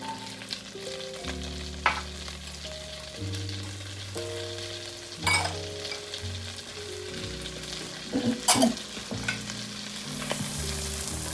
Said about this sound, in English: we are just going to allow those to saute and start to soften on a medium heat